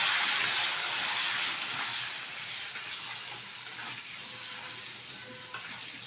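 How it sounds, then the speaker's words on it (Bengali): Potato pieces frying in hot oil with whole cumin seeds for a soybean, potato and pointed gourd curry, giving a steady close sizzle that eases slightly over time, with a single stirring clink near the end. "দিয়ে দিচ্ছি টুকরো করে রাখা আলু, ভালো করে একটু নেড়ে চেড়ে নেবো তেলের সাথে।"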